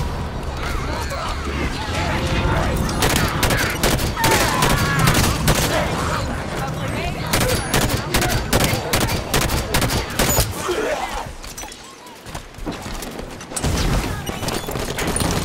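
Sustained gunfire in a Halo 5: Guardians firefight, dense bursts of shots and impacts rattling nearly nonstop, with a brief lull near the end before firing resumes; combat voices occasionally cut through the clatter.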